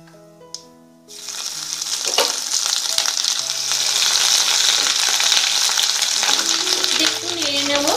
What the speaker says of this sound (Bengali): জিরে আমি ফোড়ন দিচ্ছি, জিরে আর আদা বাটা।